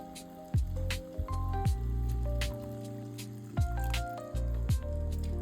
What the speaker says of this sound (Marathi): आता मी यात टाकणार आहे थोडं पाणी